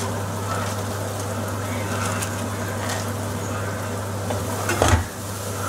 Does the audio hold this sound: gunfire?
no